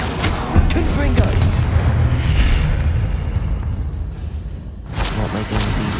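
A Confringo fire spell blast in the video game Hogwarts Legacy, a loud booming burst with a rushing whoosh that fades over several seconds, followed by a second, smaller blast.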